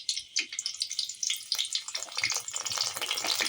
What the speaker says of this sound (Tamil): எண்ணெய் சூடாயிடுச்சு. முதல்ல பூண்டு போட்டுக்கலாம். அது கூட கருவேப்பிலையை சேர்த்துக்கலாம்.